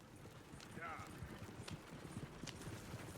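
Horse hooves clip-clop at a steady walking rhythm in the Red Dead Redemption 2 video game, moderately close, under ongoing game dialogue and background ambience.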